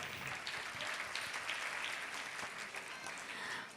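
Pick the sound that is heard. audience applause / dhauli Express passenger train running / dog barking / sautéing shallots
audience applause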